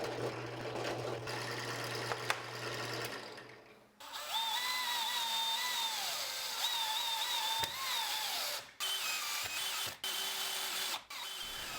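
A power drill driving screws into a styrene build, with a steady whirring motor that shifts pitch as each screw goes in, broken by brief stops, close and loud.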